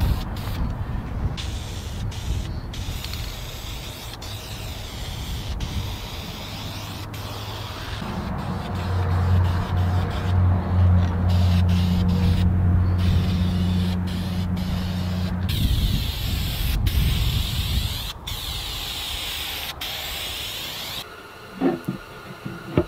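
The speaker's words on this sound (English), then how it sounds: "I'm just going to apply a couple of coats of satin lacquer." Spray gun applying coats of satin lacquer over a hand-painted toilet paper cabinet, a continuous hiss with shifting pressure, a lower droning hum through the middle stretch and intermittent gaps, close and fairly loud.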